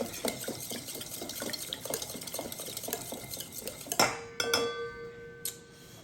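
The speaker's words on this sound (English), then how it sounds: "A little bit of Dijon mustard. Mix this up." A marinade with Dijon mustard is whisked with a metal utensil in a bowl, giving rapid rhythmic clinks and scrapes that end in a few sharp ringing taps on the rim; close and fairly quiet, with no voices.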